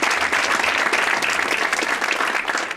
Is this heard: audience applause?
yes